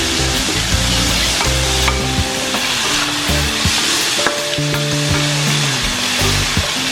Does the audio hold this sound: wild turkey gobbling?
no